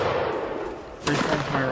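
A musket line fires in a Mount & Blade line battle: a sharp, broad volley cracks out abruptly over a constant background din of battle noise.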